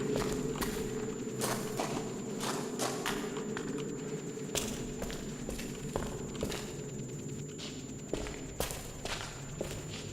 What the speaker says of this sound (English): if it doesn't sound like this guy's footsteps are really loud